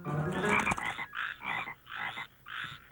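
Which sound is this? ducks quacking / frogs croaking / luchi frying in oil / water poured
frogs croaking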